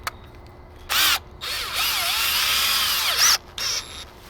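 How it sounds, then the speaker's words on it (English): A power drill whirs close up in several bursts, drilling holes in a sheet for RC airplane retracts, one long steady run with pitch shifting as it bites, then shorter spins. "let's go ahead and put our drill bit in, and let's drill some holes."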